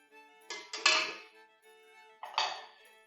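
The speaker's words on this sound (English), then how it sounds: "going to start off with mixing the dry ingredients" Cornmeal, flour and other dry ingredients are mixed in a bowl for cornbread, with a few close metal-on-bowl clinks and knocks in two short clusters and quiet between them.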